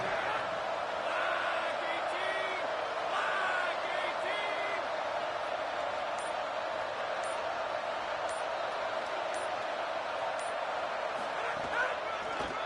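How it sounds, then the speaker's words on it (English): Stadium crowd at a college football game between NDL and Virginia rising in volume on a third-down play, a steady broad roar with scattered shouts and whistles throughout, with a commentator's voice over it. "this crowd bearing down and getting loud on 3rd down"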